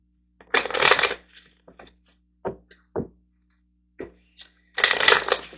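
A deck of tarot cards is shuffled up close in two riffling bursts at the start and end, with soft taps and knocks of the cards between them in a quiet room.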